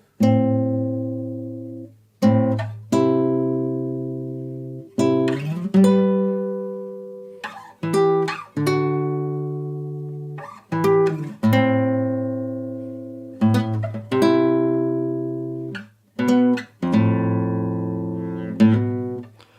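A guitar picks out a melody of plucked notes and paired strikes, each ringing and fading, in an unhurried rhythm with no talking.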